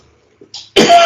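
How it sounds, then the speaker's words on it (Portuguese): A person with asthma gives a short dry cough, a couple of faint throat sounds leading into one close, loud burst. "essa tossidinha é cenográfica"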